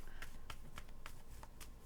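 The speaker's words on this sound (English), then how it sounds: "One more shuffle, Scorpio." A deck of tarot cards is shuffled up close, making a quick series of crisp riffling taps about four times a second, with no voices.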